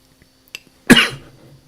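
A single sharp, close cough bursts out from a person with a cold and headache, preceded by a faint breath and followed by a brief fading rasp.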